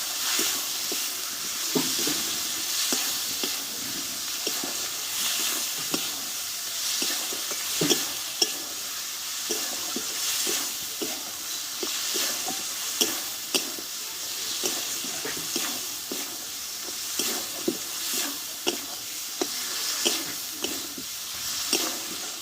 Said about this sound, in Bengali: টমেটোটা আমি ভালোভাবে কষে নেবো